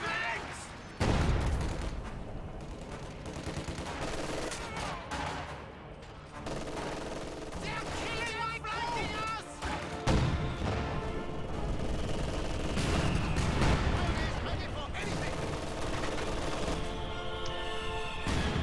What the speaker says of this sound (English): Su-76 firing into the base.